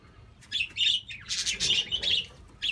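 Small birds chirp and squawk in a busy aviary holding quails and budgies, bursts of close, bright tweeting and calls coming in quick, uneven clusters with no talking.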